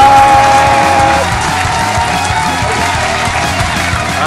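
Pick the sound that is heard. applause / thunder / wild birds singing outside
applause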